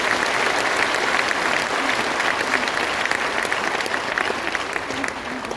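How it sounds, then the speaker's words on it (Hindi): Audience applause for leaders at a company event, a dense, sustained wash of clapping from a large crowd that stays loud and steady throughout, with no talk over it. "तो एक बहुत बड़ी ताली होनी चाहिए आप सभी लीडर्स के लिए।"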